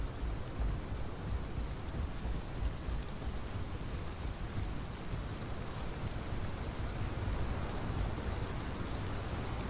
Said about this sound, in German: Jetzt regnet es auch noch.